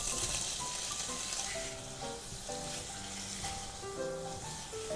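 Vegetables frying with paneer in a pan on lowered heat, giving a steady, even sizzle throughout with faint background music and no voices.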